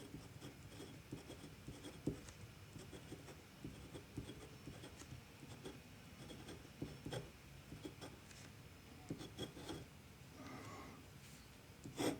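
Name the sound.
glass pen nib scratching on toothy paper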